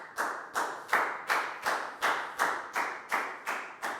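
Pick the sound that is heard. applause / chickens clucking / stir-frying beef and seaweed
applause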